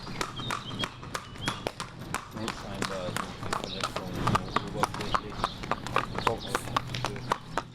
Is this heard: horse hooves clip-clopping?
yes